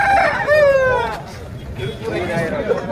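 A rooster crows loudly and close by at a weekly poultry market in Kunnathur, with a drawn-out call followed by a second, fainter crow over the chatter of the crowd.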